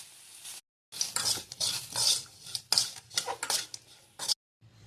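Sesame seeds, peanuts and cashews being dry-fried and stirred in a pan, with close scraping and clinking of a utensil against metal in uneven bursts over a soft sizzle, broken by brief silent gaps.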